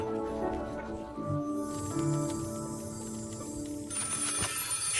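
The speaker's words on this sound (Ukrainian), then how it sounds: "Хтось дзвонить до нас, чи що?" A telephone rings with a steady, repeating electronic tone that fills the whole stretch, close and fairly clear.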